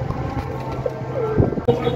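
Pigeons cooing softly at a distance outdoors, a couple of low coos rising faintly over light wind and background noise.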